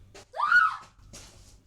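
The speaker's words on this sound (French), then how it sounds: "Mais t'es pas bien de crier comme ça?" A person in an animated cartoon screams in fright: a short rising and falling shriek, loud and close, followed by a breathy gasp-like sound.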